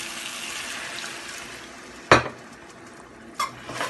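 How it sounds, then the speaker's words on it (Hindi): A cup of water is poured into chicken curry masala frying in oil. A sharp, loud splash-hiss erupts over the steady sizzle, followed by a smaller burst moments later. "अब डालेंगे इसमें पानी।"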